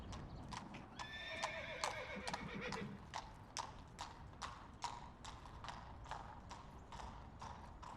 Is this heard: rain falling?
no